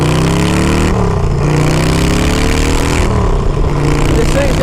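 A 2007 custom bobber motorcycle engine running loud and close, a steady heavy rumble with rising and falling revs throughout.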